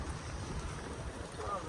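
Cold wind blows outdoors in a steady, low rumbling buffet across the microphone, a constant roar with no clear voices over it.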